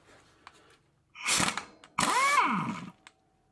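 A cordless impact wrench with a regular socket works on a bicycle in two short whirring bursts. Each burst rises and falls in pitch as the motor spins up and winds down, with quiet handling noises around them.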